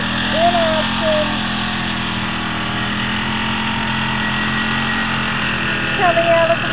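A new winch on a Polaris hums steadily while hauling a vehicle out of mud, a continuous mid-level motor drone with brief voices speaking over it at the start and end.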